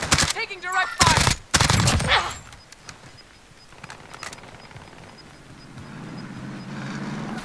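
Gunfire in Call of Duty Modern Warfare 2019 arrives as a few sharp, loud shots and bursts near the start, then fades into quieter ambient rumble with sporadic faint shots and a voice speaking.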